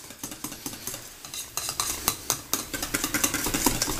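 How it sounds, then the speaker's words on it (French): A whisk scrapes and clicks rhythmically against a pot while mixing a custard flan pâtissier mixture, the strokes growing quicker and louder, with a faint sizzle beneath. "Et on va mélanger tout ça."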